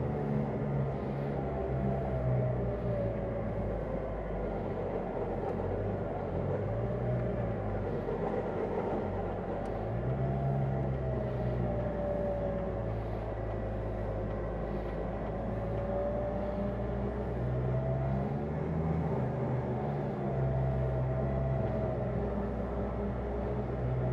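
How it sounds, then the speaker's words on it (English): A 4x4 vehicle winches itself up a hill with a continuous, steady mechanical drone and hum of the engine and winch running for the whole stretch, and no talk. "now we'll just winch up the hill for 30 seconds."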